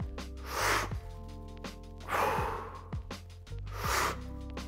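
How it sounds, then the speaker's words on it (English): Deep, slow, rhythmic breathing from a lifter wearing a weightlifting belt, with three loud breathy inhales or exhales spaced about 1.5 seconds apart over a steady low background hum. "I'm trying to breathe laterally into the belt"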